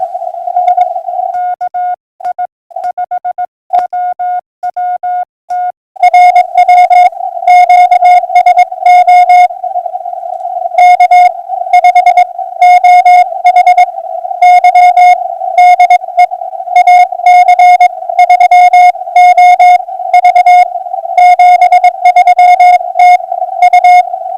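Morse code beeps from an amateur radio station calling CQ, on a single steady tone, sent in rapid bursts of short and long pulses with brief gaps, clear and loud over faint radio hiss.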